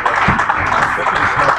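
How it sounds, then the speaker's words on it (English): An audience at a live event applauds panelists with a steady, fairly loud wash of clapping that fills the room. "Are we clapping for them, please?"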